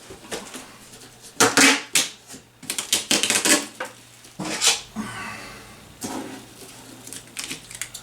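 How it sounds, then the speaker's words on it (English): Packing tape being pulled off a roll and pressed along the sides of a cardboard box, giving a run of sharp ripping and crackling bursts with short pauses between them, close by. "all I'm gonna do is I'm gonna go ahead and tape the sides"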